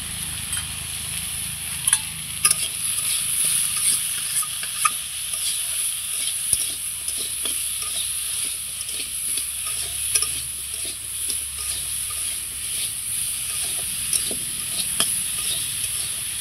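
Spiced mixed vegetables with salt and turmeric sizzle in a pan, stirred with repeated rhythmic scraping strokes over a steady frying hiss, close and continuous, with no talk.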